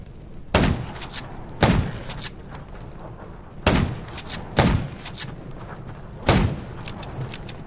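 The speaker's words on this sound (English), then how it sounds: "Gunshots, well, that's a junkyard" Gunshots in the zombie survival game Undawn near a junkyard: five loud, sharp reports spaced irregularly about a second or two apart, each with a short booming decay.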